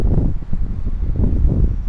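Strong wind buffets the microphone outdoors while a ZLrc SG906 Pro2 drone climbs and holds against the gusts, a steady low rumbling roar with uneven pulses, loud and continuous throughout.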